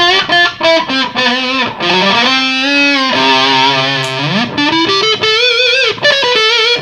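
Electric guitar through a smooth Electro-Harmonix Op Amp Fuzz pedal, bending and sustaining notes with a thick distorted tone, played alone.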